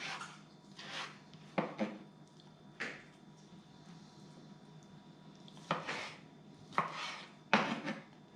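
Knife slicing cooked lobster meat into medallions on a cutting board, several quiet crisp cuts and taps spaced irregularly, close and soft, with no voices.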